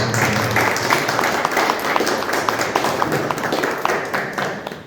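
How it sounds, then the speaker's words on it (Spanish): Audience clapping at a comedy book presentation, a dense patter of hands that holds steady for several seconds and then thins slightly, moderately loud with faint voices underneath. "Y pues le damos un aplauso a nuestro hermano Eliseo, que bello."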